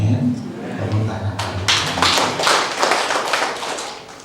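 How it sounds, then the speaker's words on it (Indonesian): Applause from a church congregation during a Sunday worship service, starting abruptly after a quieter spoken moment and continuing as dense, close clapping for a few seconds. "Tepuk tangan"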